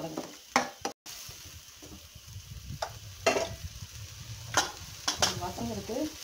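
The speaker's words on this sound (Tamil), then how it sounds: "வெங்காயம் போட்டேன், அதை நல்லா வதங்கிட்டுருக்கு" Onions and tomato sizzle in a pan for brinjal curry, a steady soft frying hiss broken by several stirring scrapes of a utensil against the pan, close and moderately quiet.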